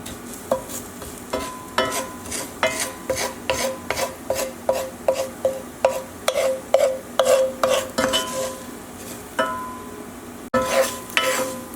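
Breadcrumbs with butter and garlic stirred and scraped in a pan, a rhythmic series of close, rasping strokes with a soft sizzle underneath, no talking.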